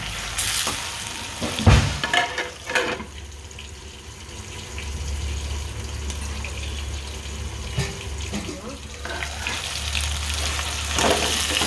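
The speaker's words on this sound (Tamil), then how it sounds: "கத்திரிக்காய் கொஞ்சம் பரட்டி விட்டு கலர் மாற வைக்கணும்" Eggplant pieces fry in an oil-filled pan with a steady sizzle and hiss, broken by occasional scraping and clinking as they are stirred and turned.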